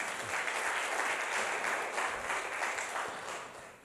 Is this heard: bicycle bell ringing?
no